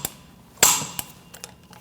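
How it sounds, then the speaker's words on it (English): A torque wrench tightening a rear spring bolt to 92 foot-pounds on a 2006-2011 Chevrolet HHR: a sharp metallic click-clack burst followed by a few lighter ticks, close and alone. "we're going to torque this to 92 foot-pounds"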